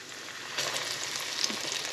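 Cornmeal-coated green tomato slice frying in a hot pan, a steady close sizzle that swells as the breaded slice goes into the oil and keeps hissing evenly.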